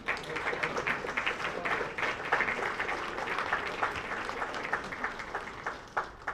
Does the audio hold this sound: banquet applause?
yes